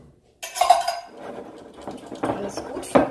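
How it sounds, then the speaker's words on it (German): Vegan blueberry muffin batter stirred in a bowl, with close clinks and scrapes of a utensil against the bowl, including a burst of stirring near the start and a few louder knocks later. "Alles gut verrühren"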